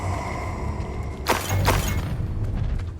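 A spell cast in the Hogwarts Legacy video game, the Expelliarmus disarming charm: two sharp whooshing bursts with a booming impact, loud over a steady low game background rumble.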